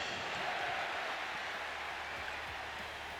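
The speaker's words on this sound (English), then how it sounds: "This crowd in Toledo is definitely behind LA Knight" Arena crowd in the WWE 2K25 wrestling video game, at a show in Toledo, keeps up a steady, moderately distant roar of cheering and clapping under the game's broadcast ambience.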